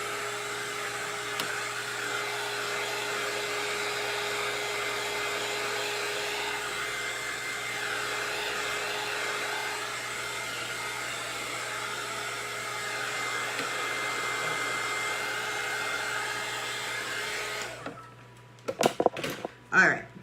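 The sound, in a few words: cheap heat gun blowing on alcohol ink tumbler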